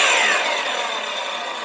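A saw cuts through cedar boards for a planter box, giving a steady, loud, continuous buzzing rasp close by that holds throughout without pausing, with no voices.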